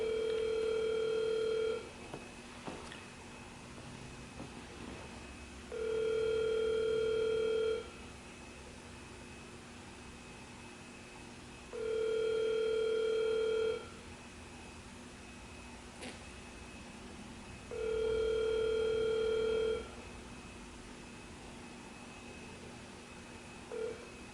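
Telephone call ringing out, four evenly spaced long ringback tones about every six seconds with quiet gaps between them, clear and close with no voices.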